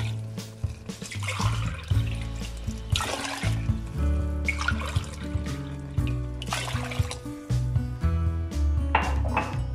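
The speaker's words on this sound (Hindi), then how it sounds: "अब हम इसमें पानी डालेंगे। मैं 3 कप पानी डाल रही" Water poured into a cooking pot for chicken and chickpea pulao, steady trickling and splashing with light metallic pings, close and continuous over an underlying hum.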